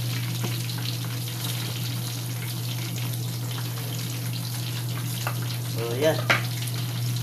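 Pork cheek frying in hot oil for crispy pisngi ng baboy, giving a steady, loud, dense sizzle and crackle throughout. A voice speaks briefly over it near the end.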